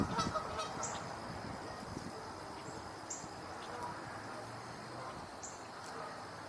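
Distant geese honking outdoors, faint scattered calls from a flock coming in, heard over a soft background hiss of insects and wind.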